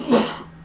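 A single short, sharp sneeze-like burst, close and fairly loud, fading quickly into quiet.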